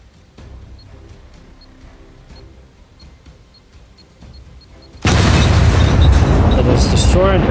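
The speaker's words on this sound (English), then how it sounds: "And that is now 12 C4 we have been using to try and break this wall down." C4 charges detonating against a base wall in the survival game SCUM: after quieter background with a faint voice, a sudden loud broadband blast erupts and sustains with rumbling, crackling debris to the end.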